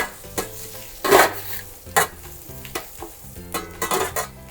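A quick stir of mushrooms sizzling in hot oil in a sauté pan, with a steady fry hiss broken by several sharp scraping and clinking stirs, close and fairly loud.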